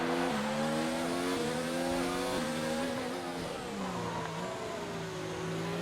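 Race car engine in F1 2019 at Monaco, held at high revs with pitch dropping and climbing through gear changes and braking into a wheel lockup; loud, continuous and close, with no talk over it.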